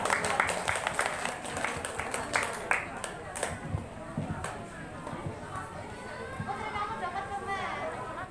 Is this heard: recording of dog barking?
no